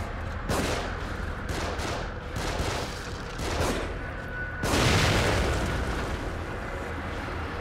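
Dense, sustained gunfire in The Evil Within fills the scene, overlapping bursts hammering with no break, building to a heavier, louder surge partway through.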